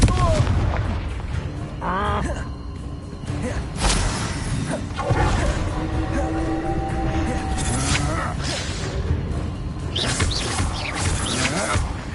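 The Confringo fire blast spell from Hogwarts Legacy, with whooshing bursts and explosive booms layered over chaotic combat effects and a voice, loud and dense throughout.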